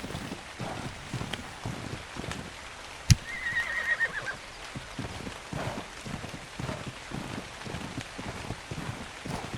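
A horse from ARK: Survival Ascended gives a single short whinny partway through, heard over a steady patter of in-game ambience like rain or water.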